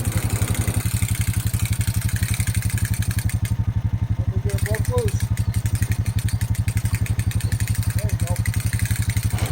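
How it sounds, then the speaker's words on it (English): A winch engine on a log arch thumps along in a steady fast idle rhythm while pulling a frozen log loose in sub-zero forest, close and continuous, with a brief whine and a voice speaking over it. "we're going to hook to the end of it and see if we can use the winch on the log arch to break it loose and pick it up"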